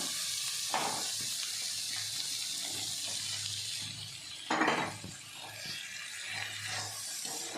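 Ivy gourd and tomatoes frying in a pan, a soft steady sizzle with occasional stirring scrapes and clinks, one brief louder rustle midway, fairly quiet overall.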